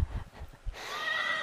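Horse neighing close by after a few dull hoof thuds, a single loud, drawn-out whinny that rises and holds to the end, with no talking.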